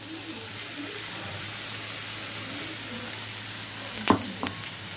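Meal maker soya chunks fry and sizzle in a pan with ginger-garlic paste, a steady dense hiss throughout with a couple of sharp scraping stirs near the end.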